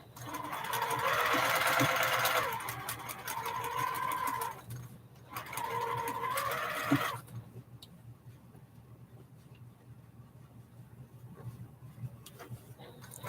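A sewing machine stitches quilt fabric in two runs of steady, close whirring with a short pause between, then stops, leaving faint ticking and room noise.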